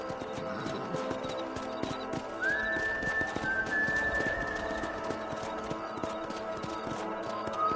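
Horse galloping in Red Dead Redemption, steady hoofbeats drumming close by as a high whinny rings out partway through and trails off over the running rhythm.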